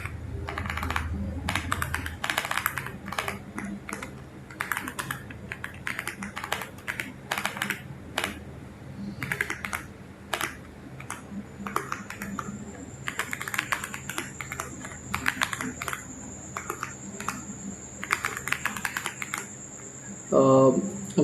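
Close computer keyboard typing of code runs steadily, with quick irregular clusters of key clicks and short pauses, fairly quiet and continuous.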